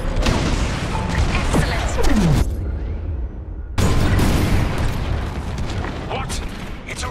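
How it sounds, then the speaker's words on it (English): Bombs detonate in heavy booms during a space bombing run in Star Wars Squadrons, with engine roar, a sudden cutout, then renewed blasts; a voice speaks briefly over the action. "On my mark, it's bombs away."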